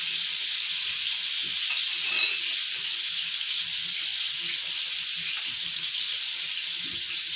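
Ground beef sizzles over lowered heat in a pan filling with rendered fat, giving a steady, even hiss that runs throughout with no talking.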